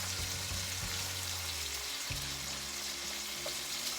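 Thin slices fry on a bed of garlic in a pan over medium-low heat for pasta arrabbiata, giving a soft, steady sizzle with a faint low hum underneath.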